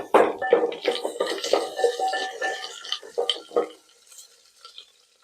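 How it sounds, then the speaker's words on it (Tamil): Chopped onions and green chilies are stirred into hot groundnut oil with curry leaves for a tomato curry, giving a busy crackling sizzle with spoon scrapes against the pan, then quieter bubbling. "இப்போ இதில் கட் பண்ணி வச்சுருந்த ஆனியன், பச்சை மிளகாயெல்லாம் ஆட் பண்ணிக்கலாங்க."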